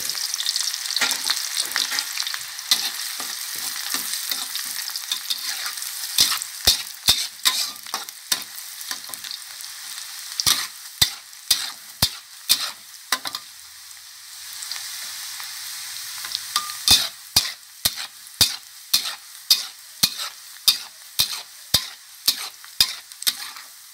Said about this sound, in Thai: หอมสับหยาบ ทลงไปเจียวก่อนเลย